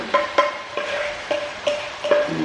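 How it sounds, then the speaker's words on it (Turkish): A spoon scrapes and knocks around the inside of a large cooking pot in a home kitchen, a series of sharp metallic clinks in uneven rhythm with a soft swishing of food between them. "Döndüremiyorum içinde güzel karıştıramıyorum."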